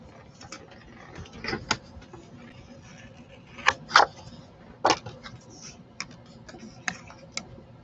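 A paper craft die-cutting machine cranks a stamped paper piece through its rollers, giving scattered clicking and ratcheting ticks with a few louder knocks, close and fairly quiet, with no talk.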